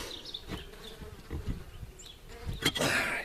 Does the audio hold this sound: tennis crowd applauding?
no